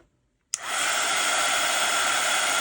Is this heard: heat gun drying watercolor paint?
yes